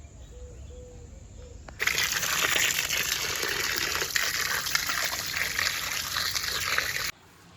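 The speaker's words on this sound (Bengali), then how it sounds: "এখন মাছগুলো ধুয়ে নেব।" Water gushes steadily from a tap onto cut pieces of a large 4.8 kg pangas fish being washed, a loud continuous splashing flow that starts abruptly, runs for several seconds, then cuts off.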